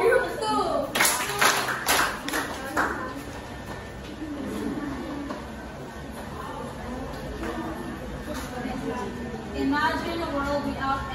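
Three bursts of classroom applause for group 2 come close together, followed by faint murmuring and talk from a teacher and students.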